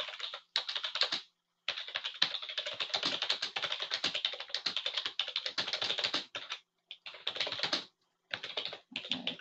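Steady typing on a computer keyboard while writing an instruction, with quick clustered keystrokes close up and two short pauses, no voices.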